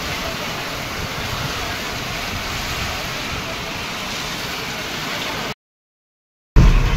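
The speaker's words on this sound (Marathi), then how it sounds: "आणि हे बघा पाऊस" Unseasonal rain falling in the middle of a hot summer, a steady dense hiss of drops close by that continues evenly before cutting off abruptly.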